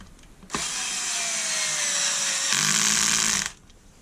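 A power driver whirs continuously for about three seconds while it removes the guard screws from a Bosch hedge trimmer, loud and close, with a pitch shift partway through and no talking.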